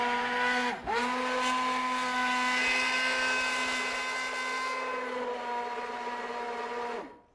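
A blender whirs steadily in a pot of pumpkin bisque, its loud, even motor drone dipping briefly near the start and then running on until it cuts off at the end.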